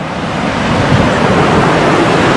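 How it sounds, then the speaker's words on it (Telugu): Waterfall at Nagarjuna Sagar dam, water dropping roughly 70 feet, roaring as a loud, steady broadband rush that fills the whole clip close by, with no voices. "వాటర్ సౌండ్ భలే ఉంది కదా అసలు"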